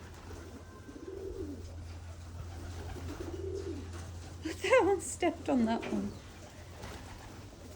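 Pigeons coo in soft repeated bursts while being fed alongside other birds, with sharper calls and flutters toward the end; someone talks quietly over them.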